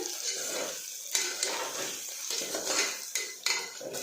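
Soya chunks fry in oil in a pan, with a loud sizzle under repeated clinks and scrapes of a spoon stirring against the metal.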